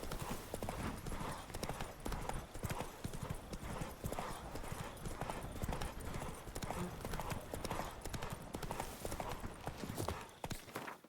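Roach the horse gallops in The Witcher 3 Blood and Wine, with steady rapid hoof clip-clop running throughout, close and loud, and brief talk over it.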